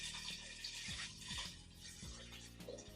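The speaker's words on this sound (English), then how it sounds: "I'm going to go ahead and add my 4 cups of water." Four cups of water pour into a pot of crushed rose hips, a faint gurgling splash with rising bubbly pitch sweeps, heard close and alone.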